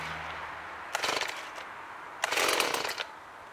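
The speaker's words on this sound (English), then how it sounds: "this is the best way I've found to be able to start my chainsaw." Two short bursts of a chainsaw engine being pull-started, each a rough rising sputter lasting about a second, close by with a quiet pause between them.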